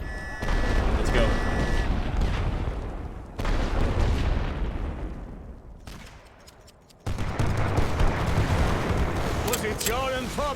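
Artillery barrage in the World War I game The Great War Western Front, with heavy rumbling booms and dense volleys of gunfire rolling continuously, loud and close, with short breaks and battle voices shouting underneath.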